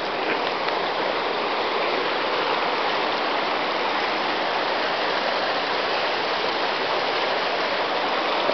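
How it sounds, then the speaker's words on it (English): A stream of flowing white water makes a constant, dense rushing hiss that is loud and unbroken, with no voices over it. "there's some little bit of white water down there"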